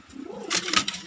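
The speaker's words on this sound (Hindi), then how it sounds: "सारे कबूतर एक बार मैं आपको फिर से दिखा देता हूँ" Desi high-flying pigeons in a flock of about 25 to 30 birds give soft, low, wavering coos up close, joined by a brief flutter of wings and rustling near the end.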